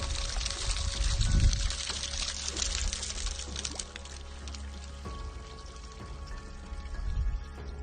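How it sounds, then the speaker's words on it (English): Water pours and trickles through an ancient carved stone channel at Ollantaytambo, a steady close flow with gurgling surges rising and falling, no talk. "you can influence the flow of the water"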